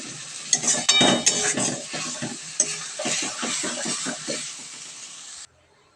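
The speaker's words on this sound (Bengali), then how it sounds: "দেখো, মশলাটা দিয়ে কষিয়ে নিচ্ছি।" Spice masala with turmeric and salt for egg curry being stirred and sautéed in a pan: loud, close sizzling with repeated spatula scrapes and clinks in an uneven rhythm, cutting off abruptly near the end.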